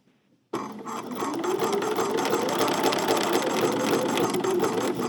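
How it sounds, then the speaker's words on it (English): A sewing machine stitches fabric in a steady, fast mechanical whir that starts abruptly after a brief quiet moment and runs continuously at close range, with no talking. "I'm going to be stitching next to it now"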